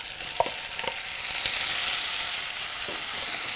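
Finely chopped tomato hits a hot pan in an Indian home kitchen, setting off a steady close sizzle, with a few soft stirring scrapes early on and the frying hiss swelling and holding.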